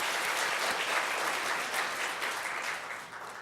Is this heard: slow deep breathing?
no